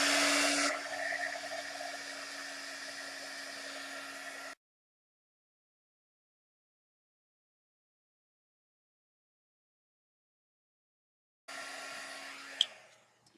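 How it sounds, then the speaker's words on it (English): A heat gun blows on wet paint on a craft piece, a steady loud whooshing hum that runs for several seconds, cuts to silence, then starts again and ends with a sharp click. "now I'm going to hit it with my heat gun again"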